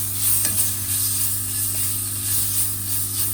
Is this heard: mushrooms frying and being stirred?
yes